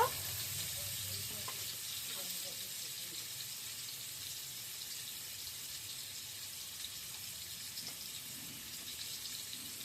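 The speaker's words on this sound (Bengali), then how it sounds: "এবার আলুটা ভাজা হচ্ছে।" Faint, continuous sizzle of salted, turmeric-dusted potatoes frying in oil, a low steady hiss with no talking.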